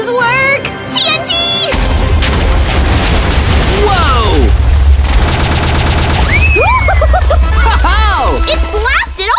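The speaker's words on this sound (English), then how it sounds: "The detonation switch! 3, 2, 1! Will it work? We're taking it down with the house! Please work! TNT!" Minecraft TNT goes off in a run of deep booms and crackling blasts that keep rumbling under excited, high-pitched cartoon voices shouting throughout.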